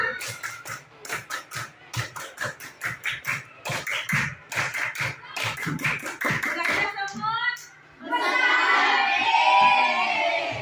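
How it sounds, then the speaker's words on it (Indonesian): Schoolchildren run through the tepuk pramuka scout clap, a quick rhythmic pattern of sharp claps for several seconds, then the clapping stops and children's voices and shouting fill the room. "Lagi ya. Tepuk pramuka."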